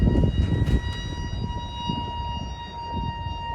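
A siren wails at a floating bridge on the Ionian coast between Preveza and Lefkada, a steady tone held over rumbling traffic and wind, with a brief clatter at the start.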